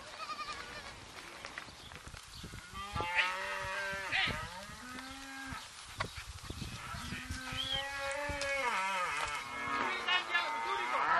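Podolica cattle low in a wide pasture among olive trees, where Leccese sheep are also raised; several long, drawn-out moos overlap at moderate distance, with fainter bleating and open outdoor ambience throughout.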